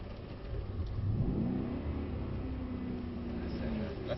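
A 2024 Mercedes-Benz C63 S revs hard while sliding on a driving circuit, its engine note rising and holding steady and close, with an instructor's voice talking over it.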